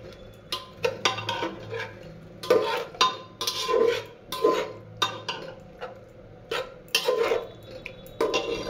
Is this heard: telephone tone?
no